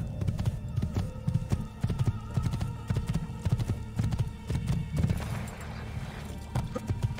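A horse gallops in the video game Assassin's Creed 2, with loud rapid rhythmic hoofbeats close by throughout and a brief whinny mixed in, the pace faltering near the end.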